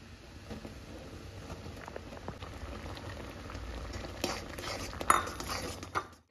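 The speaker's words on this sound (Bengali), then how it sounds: "এই দেখুন তালটা ফুটে গেছে" Palm fruit pulp boiling in a pot, a steady bubbling simmer that grows busier toward the end, with a couple of sharp utensil clinks near the close and no speech.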